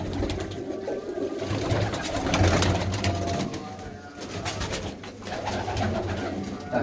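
Several racing pigeons coo continuously nearby, their low rolling calls overlapping with faint background activity throughout.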